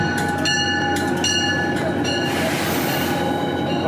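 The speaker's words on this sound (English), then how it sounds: "Oh, it's the same train we took up." A train rolls by loudly and close, its steady rumble laced with high metallic wheel squeals and tones.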